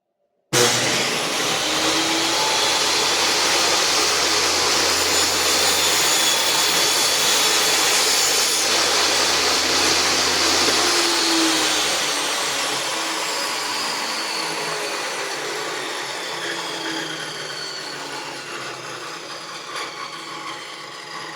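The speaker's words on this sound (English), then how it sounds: "You're going to turn your saw on and run this across your blade." Table saw cutting wood with a push block, a loud whining motor and blade rush starting abruptly, holding steady for about ten seconds, then slowly winding down as the blade spins to a stop.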